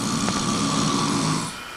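One long, raspy snore from a sleeping person rattles continuously for about a second and a half before fading, close and fairly loud with no voices.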